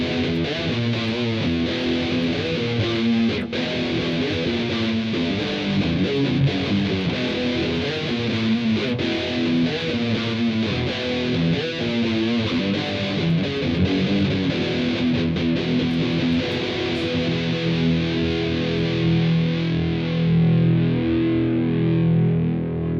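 Samick Malibu MMB-1 electric guitar played with high gain, producing thick distorted chords and notes that ring with long sustain, loud and continuous with no talking.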